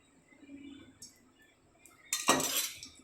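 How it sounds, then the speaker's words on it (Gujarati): Oil hits a hot griddle for uttapam with a sudden, loud hissing sizzle that starts after a couple of quiet seconds and a faint clink, then keeps crackling to the end. "હવે આપણે એમાં તેલ એડ કરી દઈશું"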